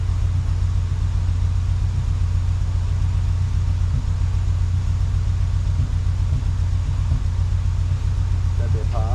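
Turbocharged 8th-generation Honda Civic engine on a dyno, a loud steady rumble with a droning mid-low tone that rises toward the end of the pull, with voices faintly underneath.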